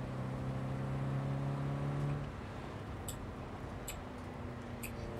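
A chunky car driven in the video game Cyberpunk 2077 hums along with a steady engine drone that drops in pitch partway through, accompanied by a few faint ticking clicks.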